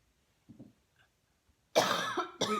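A person coughs harshly and loudly at close range, a long rasping cough followed by a second shorter one after a few faint small sounds.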